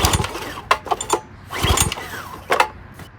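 An old Briggs & Stratton small engine coughs and sputters in short, uneven bursts, catching briefly several times without settling into a steady run, heard close by.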